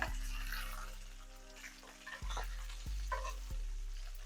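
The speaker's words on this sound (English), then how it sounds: "just kind of baste the top as they're cooking with that butter and that olive oil" Red snapper fillets frying in a pan of unsalted butter and olive oil, a steady close sizzle with soft crackle running throughout, with a few dull knocks as they are basted.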